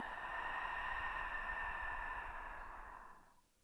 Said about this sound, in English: Exhale it all out.